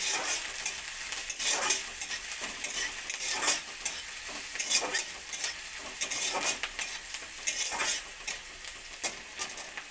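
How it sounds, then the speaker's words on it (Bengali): Chopped ginger and onion fry together in a pan for a flat bean, pumpkin and potato curry, with a steady sizzle and repeated scraping strokes of a metal spatula stirring against the pan. "আদা পেঁয়াজ কুচি একসঙ্গে হালকা ভেজে নেব"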